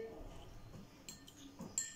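A fork clinks against a bowl while fruit is mashed for a homemade face mask, with light scraping and a few sharper taps close by, faint and unhurried.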